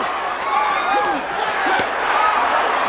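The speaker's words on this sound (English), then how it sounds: "Crowd erupting." A crowd at the Tyson vs Ruddock boxing match erupts in a loud, continuous roar that fills the whole stretch, with voices carrying over the din.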